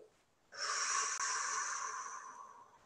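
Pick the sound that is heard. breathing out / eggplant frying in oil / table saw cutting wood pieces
breathing out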